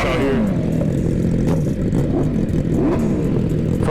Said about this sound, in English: All the beautiful bikes out here.